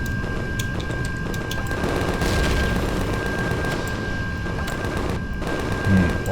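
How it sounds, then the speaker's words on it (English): A barrage of rockets fired at a base in Empyrion, a loud, sustained stream of rapid blasts and rumbling booms with a steady whine running underneath. "Oh my gosh, that's a lot of rockets."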